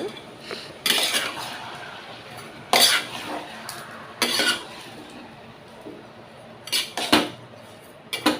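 A spoon stirs Mangalorean chicken curry in a pot, giving several separate bursts of scraping and clattering against the metal between quieter pauses, with no speech.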